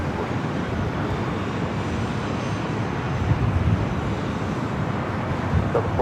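Airplane at LAX airport, a steady broad jet engine rumble with wind and distant traffic-like noise, continuous and moderately loud.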